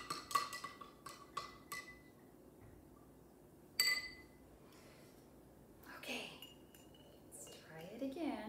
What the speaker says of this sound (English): let's dissolve this spoonful of salt